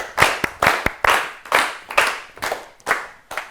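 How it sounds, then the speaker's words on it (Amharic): A group claps in repeated bursts at a children's quiz show in an Ethiopian TV studio, each round of applause rising and fading quickly in a steady rhythm, with no talk. "ለኬቲም በደንብ አድርጋችሁ አጨብጭቡለት።"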